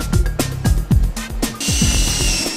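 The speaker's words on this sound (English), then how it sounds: "Next, the installer drills holes in the side of the frame and fills the cavity with urethane insulation." An installer's power drill bores holes into the side of a window frame in a series of rapid, loud whirring bursts that rise and fall, ending in a longer steady run.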